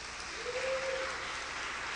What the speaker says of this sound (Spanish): Dele palmas a Dios, por favor.